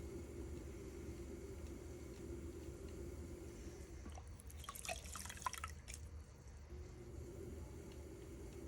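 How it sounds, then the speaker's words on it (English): Sponging leftover water out of the bottom of a freshly thrown clay bowl on a potter's wheel, a short burst of wet dabbing and dripping sounds over a steady low hum. "I'll just sponge out this water in the bottom."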